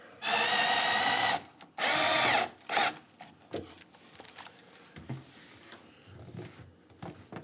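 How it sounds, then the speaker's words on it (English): A power drill drives a long screw into a door hinge in two loud, sustained whirring bursts close by, followed by a short spurt and then scattered clicks and handling noises. "I'll take that long screw and I'm gonna put it in the top"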